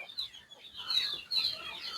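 Native chickens on a farm near their fenced night pen, soft clucks and calls coming in short irregular bursts at low level, fairly close, with no talking.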